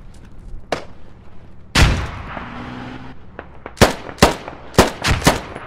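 Weapon fire in the military shooter game Squad: a lone crack, then a loud booming shot with a lingering tail, followed by a rapid run of five or six sharp close shots, with no talk.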